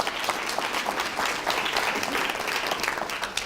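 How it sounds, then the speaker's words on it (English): A reception audience applauds at a university scholarship event, a dense, steady wash of many hands clapping at close range that holds its level throughout, with no talk over it. "Let's give him a round of applause."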